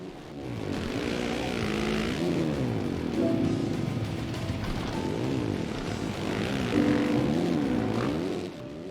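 Quad bike ATV engines roar continuously in MX vs ATV All Out, their pitch rising and falling in wavering sweeps as the machines rev and shift gears, loud and close without pause.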